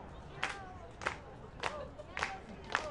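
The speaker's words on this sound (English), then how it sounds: "Fans off to our left with some 2-strike claps." Baseball fans in the stands clap out an evenly spaced two-strike rhythm, five claps about half a second apart, a little distant, over a murmuring crowd.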